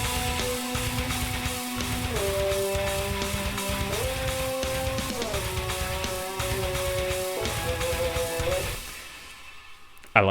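A rough, unmixed metal track with a lead guitar soloing in Phrygian dominant over a dense, steady band backing, its melody stepping between sustained held notes before the music cuts off near the end.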